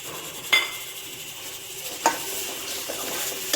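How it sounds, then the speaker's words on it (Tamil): Tomatoes soften in a pan for varagu millet sambar rice, giving a soft continuous sizzle broken by a few sharp clinks of a spoon against the pan. "இப்போ நல்லா தக்காளி வதங்கிட்டுருக்கு"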